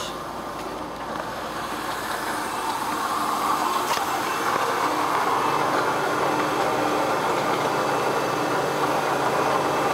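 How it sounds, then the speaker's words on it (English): A 2004 Ford Taurus engine idling with the hood open, heard close up as a steady rumbling drone with a faint grinding undertone that rises slightly and then holds even for the rest of the stretch. "The engine runs fine"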